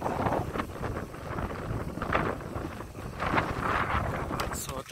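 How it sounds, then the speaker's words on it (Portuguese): Strong wind gusts at a waterside fishing spot in August, buffeting the microphone with loud, uneven rumbling roars and rustling that rise and fall throughout. "Que essas árvores aqui, elas estão segurando o vento."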